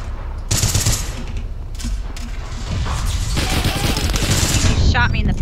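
Dense, continuous gunfire from the online shooter APB Reloaded, rapid automatic bursts layered with mechanical clatter, loud and close throughout with faint voices mixed underneath.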